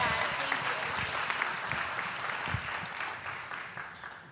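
Sustained audience applause in a conference studio during a pitch competition, a dense steady patter of many hands clapping that fades slightly toward the end, with a voice talking faintly underneath.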